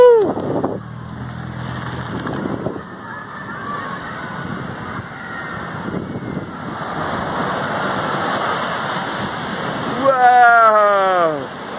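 Heavy ocean surf crashes at Rarotonga in the Cook Islands: a sustained roar of breaking water with wind buffeting the microphone. Excited voices cry out over the waves toward the end.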